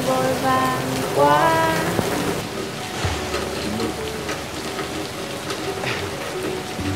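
Steady rain falling and pattering on surfaces, a dense continuous hiss throughout, with some tonal sounds over it in the first couple of seconds.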